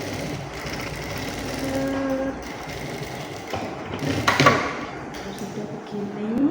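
Sewing machine stitching the open-seamed shoulder of a women's blouse, a continuous mechanical whir with rattling and a brief louder clatter midway, running close and steady.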